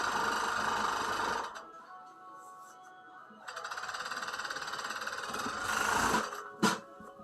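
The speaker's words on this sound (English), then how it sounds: "Just serge the top seam." A serger runs along the top seam of single-layer bloomer fabric in two steady bursts of fast mechanical stitching, separated by a quieter pause, close up and without talk.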